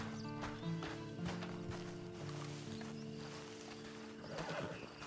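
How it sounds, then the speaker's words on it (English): A horse in the video game Red Dead Online whinnies loudly with a long, wavering neigh, followed by the soft clopping of hooves and some shuffling movement close by. "Then you better get on this horse."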